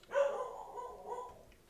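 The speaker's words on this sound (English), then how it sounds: "Yeah, you can hear the dogs." Dogs bark and howl faintly in the background in a drawn-out, wavering cry, heard quietly behind a home live stream.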